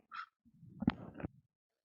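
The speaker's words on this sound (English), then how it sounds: "Dog." A dog gives a short, muffled bark nearby, with a brief yip just before it, faint and isolated in a quiet room.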